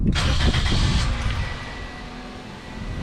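A 2006 Toyota Corolla S engine cranks and catches with a loud burst, then settles into a steady, fairly close idle, with no voices.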